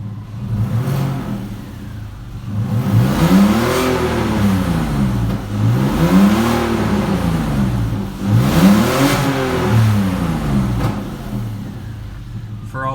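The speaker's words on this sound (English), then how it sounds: "For all of you who don't like revving a cold car, don't cry too much." A cold Volkswagen R32 MKIV engine revved in repeated blips, four rising and falling surges a few seconds apart, loud and close with a steady idle between them and no talk over it.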